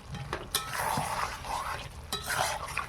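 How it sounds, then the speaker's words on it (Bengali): Chicken sautéing in a pan with ground spice paste, with a steady close sizzle and fry hiss, stirring scrapes and a few sharp utensil clinks against the pot. "মশলা বাটাটা দিয়ে দিলাম কষানোর সময়"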